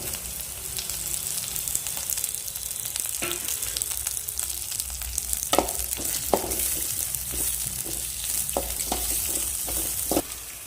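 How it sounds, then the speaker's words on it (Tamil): Green chillies fry and sizzle in a pan for an ivy gourd gravy, a steady close hiss with scattered stirring scrapes and sharp pops throughout, no voices. "இது கூடவே பார்த்தீங்கன்னா பச்சை மிளகா சேர்த்துறோம்"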